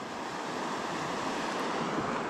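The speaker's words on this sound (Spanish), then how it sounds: "aquí vamos a llegar a un área de vuelta de agua rápida" Fast-flowing river rapids in Esmeraldas province, Ecuador, make a loud, steady broadband rushing roar with no breaks, heard from a fishing boat with some wind buffeting on the microphone.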